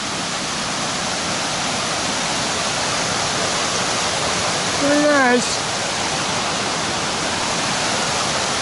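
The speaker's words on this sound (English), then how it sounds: "Check out the waterfall." A waterfall near the back side of an old iron furnace among big rocks at Cumberland Gap, Tennessee, roars as a constant, close, full rush of water while a voice briefly speaks over it.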